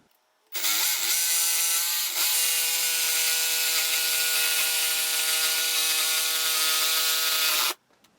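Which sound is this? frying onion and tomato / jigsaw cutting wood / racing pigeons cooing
jigsaw cutting wood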